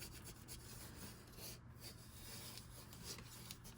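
A small squeegee rubbed over paper to press it flat on an album cover: a quiet, continuous dry scraping and rasping, close up, with no talk.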